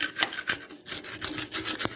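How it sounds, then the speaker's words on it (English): A tool rasps and scrapes debris out of the frame rail of a 2003 Dodge Ram 3500 dually truck, in quick repeated strokes, loud and close, with no talking. "So we'll get that all cleaned up. We'll just scrape it all out there."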